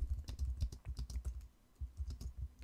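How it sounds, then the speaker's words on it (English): Typing on a computer keyboard, a quick run of soft, close key clicks with a brief pause midway, quiet and without voices. "maybe what I want to add in here is a paragraph, and let's type in"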